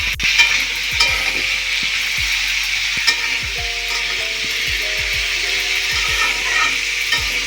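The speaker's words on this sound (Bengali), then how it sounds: "তেলের উপরে আমি আগে সবজিগুলো হচ্ছে ভেজে নিই" Vegetables fry in hot oil for a pumpkin-leaf and prawn dish, making a loud, steady, close sizzle with repeated scraping and knocking stirs and no voices.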